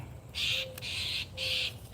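A crow gives three loud, harsh caws in a steady rhythm, close by over a low background rumble.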